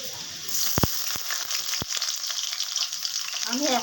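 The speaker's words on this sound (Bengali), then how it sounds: "এবার দিয়ে দিচ্ছি পেঁয়াজ।" Onion tossed into garlic already frying in hot oil, giving a steady close sizzle with a few sharp clicks of the spoon against the pan and a louder hiss near the end.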